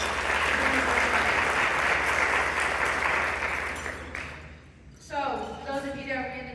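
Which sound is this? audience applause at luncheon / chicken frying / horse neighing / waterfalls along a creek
audience applause at luncheon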